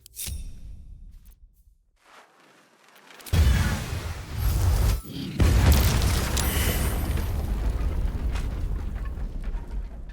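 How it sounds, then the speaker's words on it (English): A big explosion in Baldur's Gate 3 breaks out after a quiet lull, a loud deep boom with a crackling rumble that rolls on and swells again, then lingers as heavy low roar. "did you just hear the explosion?"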